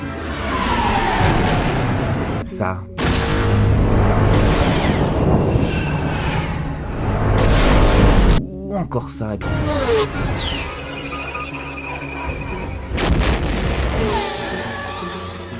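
Star Wars space battle: a dense, loud run of blaster shots, sweeping zaps and booming explosions crowds together, with a brief spoken remark partway through.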